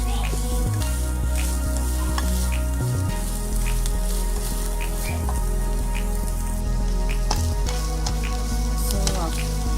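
Sauté potatoes with dhania (coriander) tossed and stirred in a hot pan, a loud, dense sizzle with spoon scrapes and low thumps running throughout.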